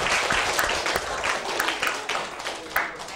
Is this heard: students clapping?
yes